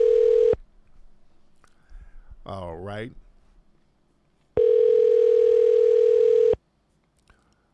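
A phone call placed by a caller wanting to reach someone: a steady dial tone, then a quick burst of touch-tone dialing beeps, then another long dial tone, with brief speech between them.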